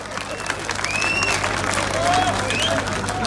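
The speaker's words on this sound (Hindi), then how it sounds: "ठोको ताली ठोको" A large outdoor crowd claps at a political rally in Rohtak, steady dense applause with whistles and cheering voices rising above it, loud and sustained throughout.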